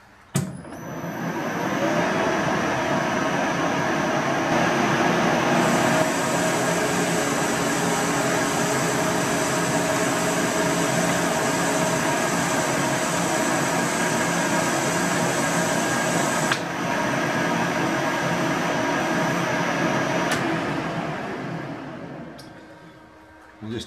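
Lathe machining a stereo foot part held in soft jaws, facing and chamfering: a steady, loud mechanical hum with high tonal whine that starts abruptly, runs evenly for about twenty seconds, then winds down.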